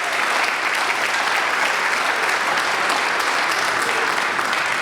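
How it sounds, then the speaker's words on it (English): Audience at a Martin Luther King Jr. community celebration in Newton applauding, a dense, even wash of many hands clapping, loud and sustained throughout. "Let's give them a round of applause, please."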